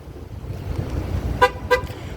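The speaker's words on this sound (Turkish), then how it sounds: "Yani iki kere kornayla kapınız açık. Dikkat edin, kontrol edin diye uyarı verir araba" A 2014 Ford Focus Titanium sounds two short horn honks in quick succession as an open-door warning over a low idling rumble, clear and close.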